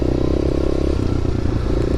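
A Kawasaki KLX250SF motorcycle rides off-road, its engine droning steadily at close range with rattling and clattering over rough ground, continuous throughout.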